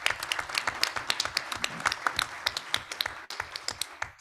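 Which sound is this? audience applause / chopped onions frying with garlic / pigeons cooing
audience applause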